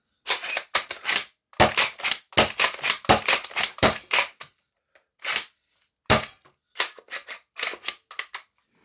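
Foam-dart blaster emptying the last few shots of its magazine outdoors: a burst of sharp, rapid mechanical snaps and clacks in quick succession, a brief pause, then a few more scattered shots, close and fairly loud with no talking.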